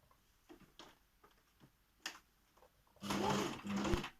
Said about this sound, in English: Okay, it is sewing time.